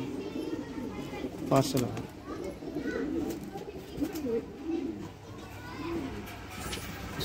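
Rampuri and Pakistani breed pigeons cooing nearby in soft, repeated rolling calls while someone talks over them, with a faint background hum.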